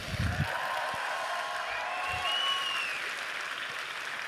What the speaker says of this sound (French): Encore un grand bravo à tous les performeurs, applaudissements.